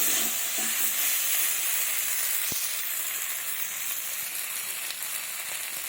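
A duck egg and okra curry sizzles hard in a pan as water goes in, giving a steady, close frying hiss with light stirring sounds and one sharp clink partway through.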